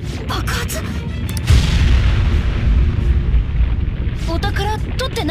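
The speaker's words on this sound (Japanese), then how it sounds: "爆発？" A loud, deep explosion erupts in the video game Persona 5, a heavy booming rumble that swells suddenly and lingers for several seconds, with brief bursts of game sound before and after.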